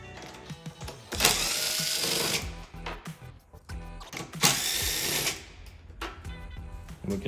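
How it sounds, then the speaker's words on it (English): Two long, loud whirring runs of a power driver pull T25 bolts from a Ski-Doo Gen5 snowmobile hood, each lasting over a second, with clicks and handling noises in between. "Now we can remove the 4 T25 bolts, 2 on the front, 1 on each side."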